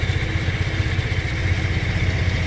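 A Twist scooter motorcycle engine idles steadily on the workbench during a carburetor tune-up, a continuous low putter with a mechanical clatter, close and constant, no voices.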